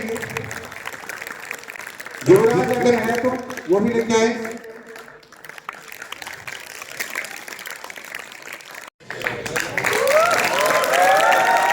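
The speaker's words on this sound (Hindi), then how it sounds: "जोरदार तालियां इस बच्चे के लिए" At a Republic Day school event, a crowd applauds a child's drawing with a bed of scattered clapping while someone speaks loudly over a microphone in bursts.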